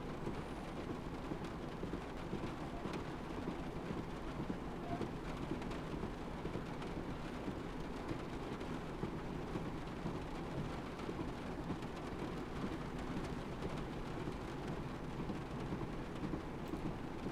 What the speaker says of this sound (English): even with the fastest setting, we're still getting quite a lot of rain on the windscreen